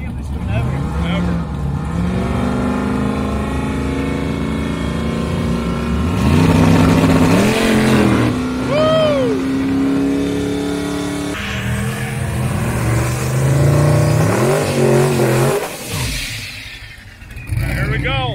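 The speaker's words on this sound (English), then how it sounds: "now on his twin turbo Lambo" A twin-turbo Lamborghini race car accelerates hard at a race-week event, its engine climbing through rising revs with gear changes, loud and close, while people talk over it.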